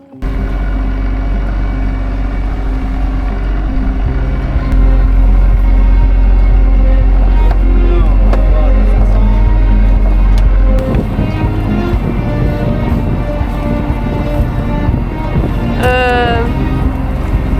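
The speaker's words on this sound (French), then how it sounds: "Alors on a remis un petit coup de moteur." The inboard engine of a 46-year-old sailboat drones steadily while motoring near the Frioul islands, a low, constant hum mixed with wind buffeting, with voices briefly heard near the end.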